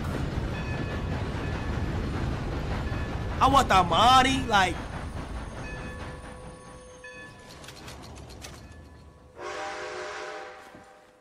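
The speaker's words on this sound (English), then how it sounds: "Train's here, folks. Prepare to board." A train pulls into a station in the video game Red Dead Redemption 2, with a loud rolling rumble, a shrill whistle blast in the middle, and a later hiss of steam, while someone talks over it.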